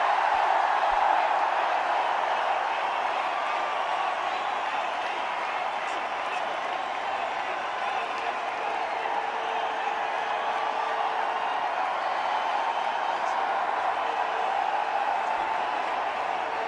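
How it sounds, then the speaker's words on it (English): A stadium crowd at a cricket Test in Indore, India versus New Zealand in 2016, gives sustained applause for Virat Kohli's double century. It is a steady, distant wash of clapping and crowd roar lasting the whole stretch. "he gets an enormous round of applause from players and fans alike"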